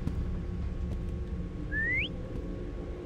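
A single short whistle rising in pitch sounds faintly over a steady low background hum inside an abandoned ship in the game Lazaret.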